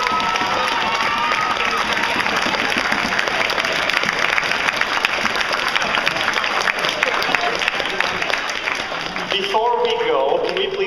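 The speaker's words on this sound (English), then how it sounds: "give a big round of applause to the winning team" Sustained applause and cheering from a crowd celebrating the winning team at the Lancer Cup 2011 competition, steady and dense throughout, with a brief change near the end.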